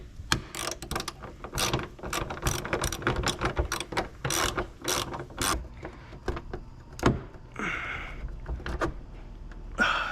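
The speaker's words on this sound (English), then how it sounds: "get your 13mm socket in there and start loosening it up" A 13mm socket on a ratchet loosens a headlight bolt on a 2024 Ford Ranger Raptor, with rapid close pawl clicks in quick bursts, followed by a couple of slower, scattered clicks and some handling noise.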